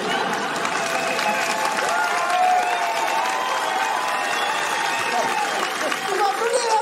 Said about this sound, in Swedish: Du applåderar med mig!